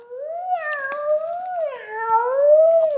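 A child imitates a cat's meow: one long, wavering, pitch-gliding vocal meow lasting about three seconds, close and clear with no other sound around it.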